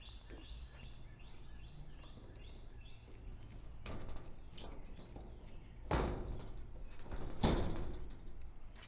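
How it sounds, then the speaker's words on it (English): Metal shed doors sliding open at a makerspace, faint rumbling scrape followed by a couple of louder clanks, with birds chirping lightly in the background. "So you'll just slide the doors open."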